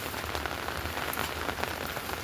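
Rain falls on a tin roof in a dense, even patter, loud and constant with no voices.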